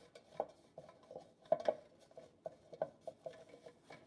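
Soft scraping and light tapping of flour being rubbed around the inside of a greased Wilton baking pan, a quiet, uneven series of brushing taps heard close and alone.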